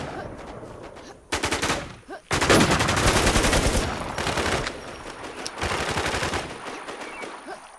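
Video game gunfire in long automatic bursts, loud rapid machine-gun rattles broken by short gaps, with an excited voice briefly heard between bursts.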